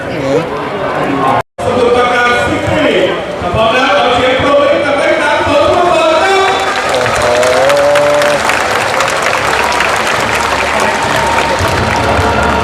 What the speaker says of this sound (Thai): กองเชียร์สมุทรปราการนะฮะโอ้มาน้อยแต่ก็เชียร์นะ